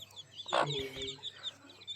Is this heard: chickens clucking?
yes